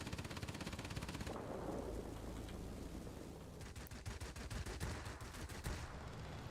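Rear gunner of a P-61 Black Widow firing in World of Warplanes, a steady stream of rapid gunfire bursts rolling under engine roar, loud and continuous, with denser cracking volleys toward the end.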